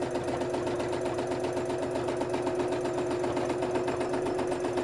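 A sewing machine hums continuously during free-motion stitching on a bird wall hanging, a steady close mechanical drone with a rapid needle rhythm and no voices.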